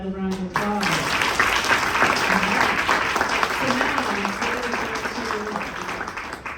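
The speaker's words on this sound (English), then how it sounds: "Please, let's give her another round of applause." An audience applauds an award recipient at a Women's History Month awards ceremony, with steady, sustained clapping filling the room throughout, and a voice briefly audible near the start.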